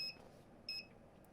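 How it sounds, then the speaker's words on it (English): Two short electronic beeps, high and clean, the second a bit longer, from an Aifen A902 dual-channel soldering station powering on, close by in a quiet room. "So we turn it on, we get a beep"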